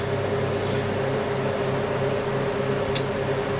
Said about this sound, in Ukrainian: Це зараз в дуйках вмикнула тільки один вентилятор.